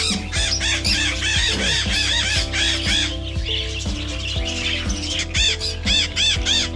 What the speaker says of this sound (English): Miniature macaws.